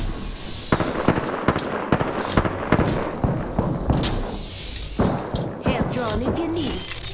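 Rapid bursts of gunfire from a battle royale style video game shootout, loud sharp shots repeating in quick clusters over a dense background of game effects, with a voice speaking during the firefight.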